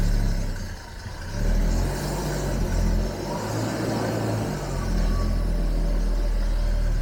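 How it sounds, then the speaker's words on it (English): A Jaguar XJS V12 engine turns over and catches with added throttle, then runs with a low, rough, uneven rumble that swells and dips as it settles. "let's see if it wants to fire up. Almost. Oh, come on, it needs a little bit of throttle."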